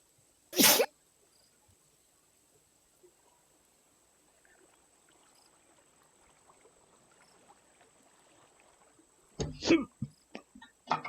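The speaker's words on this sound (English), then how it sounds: "that was a sneeze" A single sharp, loud sneeze at the start, then near silence with faint low rustling, followed by a burst of noisy bumps and clicks near the end.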